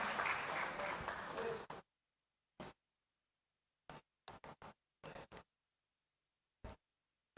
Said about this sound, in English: Let's have a huge round of applause once again